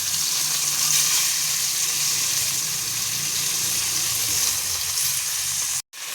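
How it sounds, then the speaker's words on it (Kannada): Food fries in a pan with a constant, loud hissing sizzle that holds steady throughout, then cuts out abruptly for an instant near the end. "ಫ್ರೈ ಆಗ್ತಾ ಇದೆ."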